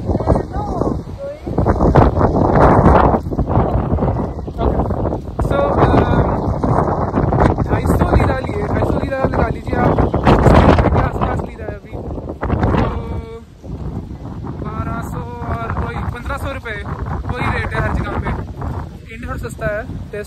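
Strong gusting wind buffets a phone microphone outdoors, loud continuous rumbling roar that dips briefly midway, with people talking throughout.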